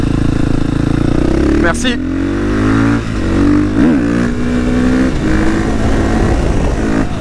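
A KTM 450 supermoto single-cylinder motorcycle engine idles loud and close, then revs in short blips that rise and fall, with a brief word spoken early on.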